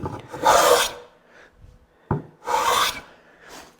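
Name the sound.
hand plane shaving across a wooden cutting board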